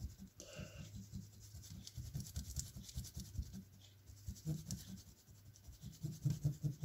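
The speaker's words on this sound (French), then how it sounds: "le drawing gum avec notre gomme de bureau, ça suffit" Office eraser rubbing dried drawing gum masking fluid off watercolour paper, a soft, quiet, rapid scratchy rubbing in continuous back-and-forth strokes, close and alone.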